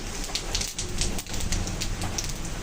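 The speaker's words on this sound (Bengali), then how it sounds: "আজকে কিন্তু আবহাওয়া অনেকটাই খারাপ, ঝড় বৃষ্টি" A rain and wind storm outside a home kitchen gives a dense, steady wash of rainfall and gusting noise throughout, fairly loud, with no voices.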